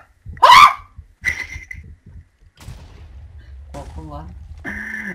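A short, sharp blast bursts out near the start, followed by scattered thuds and electronic game tones, in the game Sky Wars.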